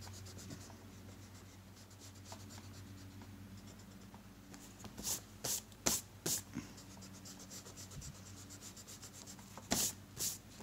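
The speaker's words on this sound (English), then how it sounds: "Now I'm going to go back in and erase." An eraser rubbed over pencil lines of bubble letters on paper, soft scratchy strokes that grow into several short bursts of quick rubbing, close and quiet, with no talk.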